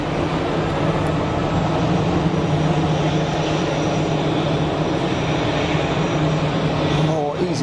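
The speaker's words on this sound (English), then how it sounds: "More easyJet departures." An easyJet Airbus A319 airliner departs Geneva Airport, its engine roar a steady, loud broadband rumble with a sustained low drone throughout and a rising whine near the end.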